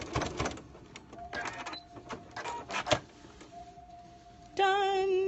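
A sewing machine back stitches cloth pads in short, faint bursts of needle clatter separated by pauses, ending in a brief tonal whir.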